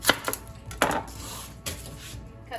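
Knife strikes on a cutting board while an onion is prepared, a few separate sharp chops near the start and middle, close by and fairly loud, with quieter handling sounds between.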